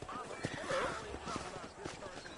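A horse in the Red Dead Redemption video game whinnies and snorts with soft hoof clops, heard faintly under a dense backdrop of game ambience and talk.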